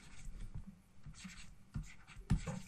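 Marker or chalk strokes scratching across a board during a maths lecture on limits, a series of short irregular scrapes and taps, close and fairly quiet, with no talking.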